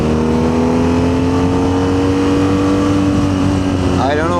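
A BMW R nineT Scrambler motorcycle engine hums steadily in second gear while riding at speed, a sustained drone with rising pitch under strong wind noise, and a voice talks over it.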